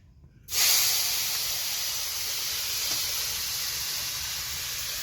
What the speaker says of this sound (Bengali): এখন ভালো করে মাখিয়ে ভেজে নিব।